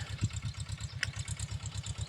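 A tractor engine runs on a farm, a steady low rhythmic chugging idle with a regular pulse and a brief clank, close and moderately loud with no talk.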